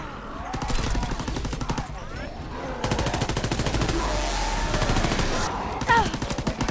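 Rapid machine gun bursts in Call of Duty WWII Zombies, long rattling strings of automatic fire broken by brief pauses, with game sound effects around them.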